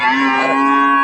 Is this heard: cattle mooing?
yes